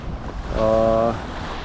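Wind on a sailing yacht heading toward Greece: a continuous close rush and buffeting of wind across the microphone, with a brief tonal hum briefly rising in the middle.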